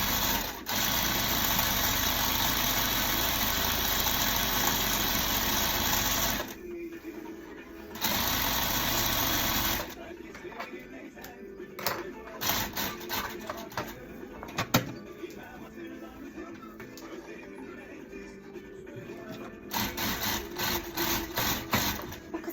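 A sewing machine stitches an oval fabric base, its steady whirring run stopping briefly and starting again, then giving way to softer handling noises and short bursts of stitching.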